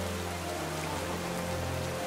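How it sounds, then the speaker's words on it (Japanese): Steady rain falls in the Pokémon Sword game at a seaside cove, a continuous even hiss of raindrops with faint background music tones and no speech. "まあ、こちらも雨だね"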